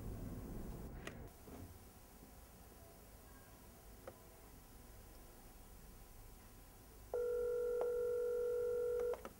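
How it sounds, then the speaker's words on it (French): A telephone is dialed to call a school principal: a few faint clicks and ticks over quiet hiss, then a loud, steady dial or ring tone that holds for the last couple of seconds. "l'équipe va chercher à joindre par téléphone le proviseur du lycée"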